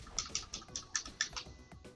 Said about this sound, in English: I've been pressing the wrong button on my keyboard.